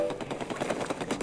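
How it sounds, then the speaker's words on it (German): Rapid splattery shooting sound effects from the video game Splatoon 3, played as an alarm on the Nintendo Alarmo clock, a dense stuttering burst of fire lasting about a second without pause. "Einfach mit diesen Schießgeräuschen von Splatoon."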